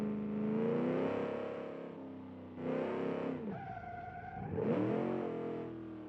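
Video-game car engine droning loudly and steadily with shifting revs and tyre squeal, a car stuck at full steering lock while being pushed into a burnout, the tone rising and falling throughout.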